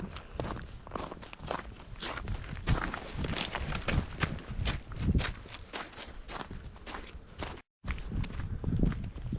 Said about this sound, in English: The old icy footsteps.